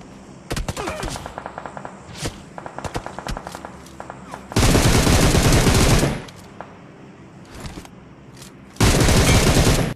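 Gunfire from PUBG Mobile on the Livik map: rapid automatic bursts and single shots crackle up close, broken by two long, dense stretches of sustained loud firing.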